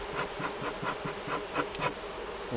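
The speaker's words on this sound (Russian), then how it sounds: "И загоним оставшихся пчел" Honey bees buzzing around a hive while the remaining bees are driven out, a steady close insect drone with faint pulsing swells throughout.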